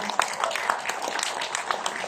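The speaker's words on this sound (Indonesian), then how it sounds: "tepuk tangan untuk Pak Dono." Audience applause at a parliamentary app launch discussion, scattered moderate clapping heard from a distance at low level for about two seconds.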